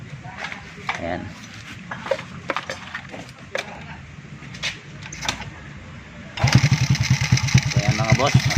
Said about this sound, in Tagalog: nakaandar na yung motor